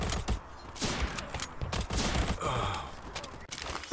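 Modern Ops game combat: a grenade blast among bursts of rapid gunfire, with repeated sharp cracks and booms packed into a few seconds, fairly quiet overall and with sighs and gasps mixed in.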